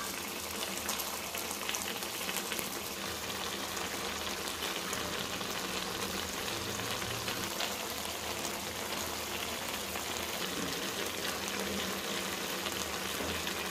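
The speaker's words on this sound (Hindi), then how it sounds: "तो आपको हलवे की आवाज़ कैसी लगी" Gajar ka halwa, made from two kilos of carrots, bubbles and sizzles in a pan, giving a steady, close, rain-like hiss of boiling liquid that runs on without pause and without talk.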